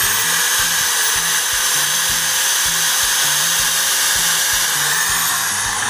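A steady, loud whine from an electric drill running continuously off a homemade free energy generator during a load test, with a pulsing low hum underneath and no talking.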